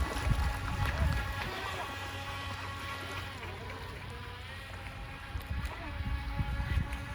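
A Proboat Riverine 22 RC boat with an upgraded power system runs on open water, giving a steady motor whine with water splash and wind buffeting across the whole stretch, fairly close and continuous.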